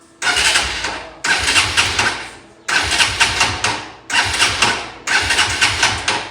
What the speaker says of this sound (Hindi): सबसे पहले हम करेंगे जी बाइक को स्टार्ट